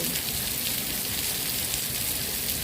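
Steady rain pours down during a storm in Phuket, Thailand, a dense, even hiss of drops on surfaces that holds at the same level throughout, with no voices.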